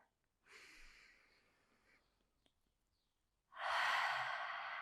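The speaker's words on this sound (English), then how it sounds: "I want you to take a big, deep breath in, really fill on up" Deep breaths at close range, a soft airy inhale followed by a louder, fuller rush of breath toward the end, with no talking.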